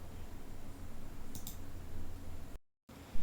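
A computer mouse clicks once on an Install button, a single short, soft click midway through, set against a quiet low background hum.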